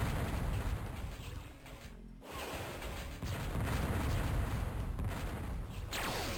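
Missiles launched and exploding in a competitive video game tournament match, heavy rumbling booms and blasts rolling over one another, with a brief lull before another loud burst and a whooshing streak near the end.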